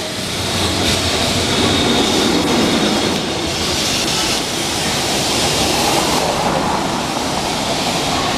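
A fast tram in Portugal rushes past close by, a loud, sustained rumbling roar of wheels on rails with faint clattering that swells and fades slightly over several seconds.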